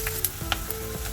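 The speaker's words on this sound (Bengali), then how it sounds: "পেঁয়াজ কুচিগুলো অল্প একটু ভাজা হবে, ফ্লেমটা সেই জন্য একটু বাড়িয়ে দিচ্ছি।" Chopped onions frying in a pan over a raised flame give a steady close sizzle, with a few light scrapes or stirs on top.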